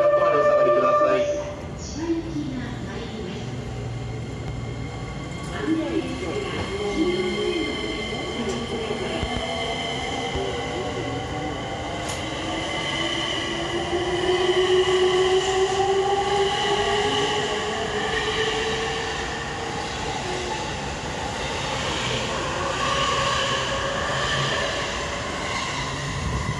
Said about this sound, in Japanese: 4番線列車が発車いたします。